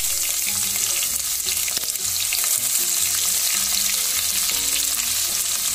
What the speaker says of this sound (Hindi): अब हम डाल देंगे इसमें हमारे प्याज।